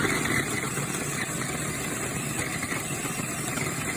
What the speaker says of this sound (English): So I'm just going to put some bread in here and whisk it up.